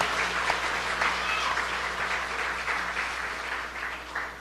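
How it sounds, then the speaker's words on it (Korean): Church congregation, children and adults together, breaking into a steady burst of applause that fills the room at an even level and fades slightly at the end. "박수 한번 치겠어요"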